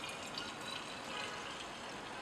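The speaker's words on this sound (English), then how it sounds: "pour the mixture into a separating funnel" A benzene and water mixture is poured into a glass separating funnel, giving a continuous, even splashing trickle of liquid at close range with no voices.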